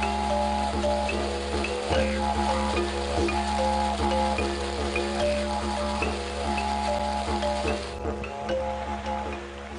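Heavy rain pours down in Liberia, a dense steady patter and splashing on surfaces that continues for about ten seconds with no voices, easing a little toward the end.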